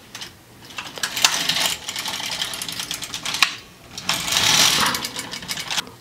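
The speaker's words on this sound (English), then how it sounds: "Now we start knit the first 5 rows." An LK150 knitting machine carriage is pushed back and forth to knit rows, giving loud, close mechanical clattering sweeps with brief pauses between passes.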